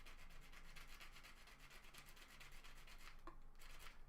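Steady, close scratching and rubbing as a sanding block works a small plastic Gundam model kit part, with continuous fine strokes and a brief pause near the end.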